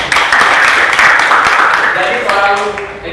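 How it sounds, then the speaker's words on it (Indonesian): A classroom audience breaks into dense, steady applause that fills the first two seconds, then fades as a voice starts speaking over the last of the clapping. "Tepuk tangan dulu dong."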